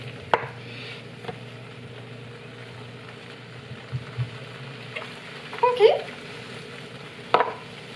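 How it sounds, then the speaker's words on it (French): Risotto with parmesan is stirred in a pot, giving soft scraping and a few louder clacks of the spoon over a low kitchen hum, with a faint voice in the background. "Je vais brasser."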